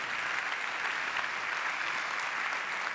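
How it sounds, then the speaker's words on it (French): Steady applause from a crowd at an awards evening, a continuous wash of clapping with no pauses. "Applaudissements encore, mesdames et messieurs,"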